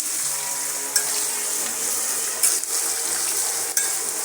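Curry leaves frying in a hot pan, a steady loud sizzle throughout with a few brief stirring clinks and scrapes, no one speaking.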